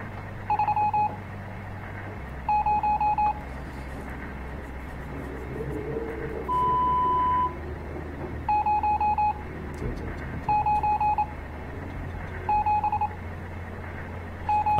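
Morse code beeps from the game Stories Untold sound as short bursts of steady tones repeating in groups over a low background hum, with a single longer tone in the middle.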